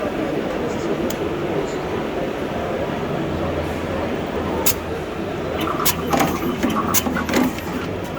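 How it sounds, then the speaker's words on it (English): Wire cutting and stripping machine running at a crowded electronics trade expo, with a steady mechanical whir and sharp rhythmic clicks and clacks near the end, heard over dense background hall chatter. "This is a cutting stripping machine."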